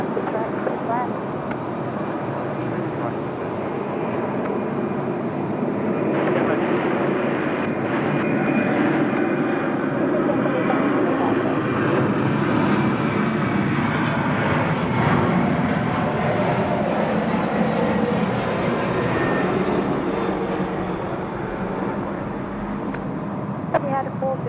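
A jet airliner rolls for takeoff at Sydney Airport at night, its engine roar steady and loud throughout, with broadband rumble building, under a wash of background noise and voices talking nearby.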